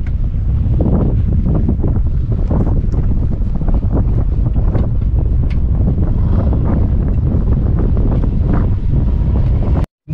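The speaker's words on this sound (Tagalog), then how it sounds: "Silang pala ang hangin." Strong wind at sea buffets the microphone with a constant roaring rush over the low churn of a boat moving through water, ending in a sudden cut.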